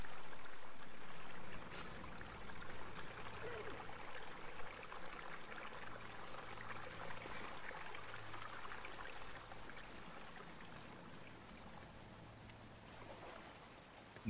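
A waterfall in the video game RiMe pours continuously, a soft broad hiss of falling water with gentle splashing textures, steady throughout with no one talking.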